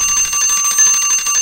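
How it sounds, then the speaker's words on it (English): A PvP timer in a Minecraft UHC match sounds as a bright, ringing bell chime that trills steadily for over a second with no talk over it. "That was the timer, the PvP timer"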